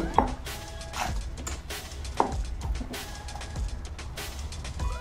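Bottle gourd chopped with a knife on a cutting board, a few sharp knife strikes spaced irregularly over a steady background hum, moderately close.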